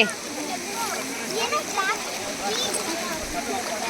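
A waterfall pours with a steady broadband rush, while children and adults chatter and call out over it throughout.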